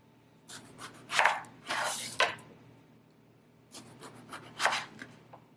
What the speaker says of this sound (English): I'm just going to slice this into discs.